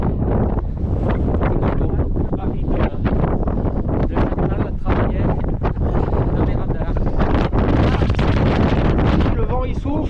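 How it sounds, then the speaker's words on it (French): Strong wind gusts roar across the microphone on the Welsh coast, a loud continuous buffeting rush that swells and fades, with a voice speaking underneath. "le vent il souffle"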